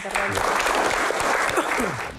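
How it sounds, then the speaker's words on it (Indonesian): An audience claps at a public Q&A session, a short burst of applause lasting about two seconds with voices mixed in over the clapping. "tepuk tangan"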